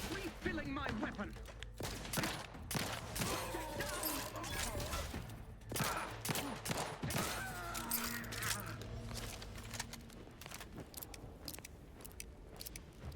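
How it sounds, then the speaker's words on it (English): A repeater rifle fires in The Outer Worlds 2, sharp close shots in irregular bursts with mechanical clicks, while a voice talks between them. "I thought this was a repeater rifle."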